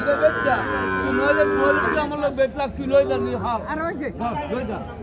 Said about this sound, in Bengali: অনেক গরু আসতেছে